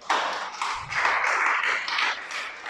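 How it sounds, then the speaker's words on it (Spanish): Applause from a gathered congregation during a Torah teaching, a sustained wash of many hands clapping that swells and ebbs for a few seconds with no voices over it. "Dale un aplauso al Creador."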